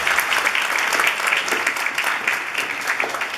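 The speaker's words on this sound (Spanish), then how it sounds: "Fuertes aplausos, por favor, para Katia." Sustained applause from a workshop audience, a steady dense patter of many hands clapping throughout, fairly close and even in loudness with no speech over it.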